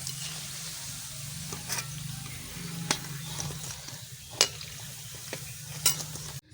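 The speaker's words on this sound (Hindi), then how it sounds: "तो इसी तरह हम सारी पकौड़ियों को तलकर तैयार कर लेंगे।" Pumpkin pakoras frying in hot oil give a steady, soft sizzle and bubbling close by, broken by occasional sharp clinks of a utensil stirring and lifting them out of the pan.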